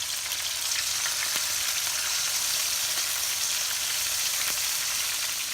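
Pork liver steak fries steadily in a pan, giving a continuous close, bright sizzle with occasional louder pops and crackles, and no voices over it.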